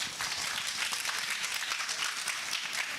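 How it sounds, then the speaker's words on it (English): A conference audience applauds a student presenter with soft, steady clapping heard at a distance throughout the short stretch. "can we have an applause for Muskan?"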